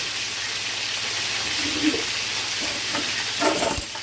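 Fish fries in a pan with oil, a soft steady sizzle and hiss that stays fairly quiet, broken by a few brief scrapes and clinks near the end.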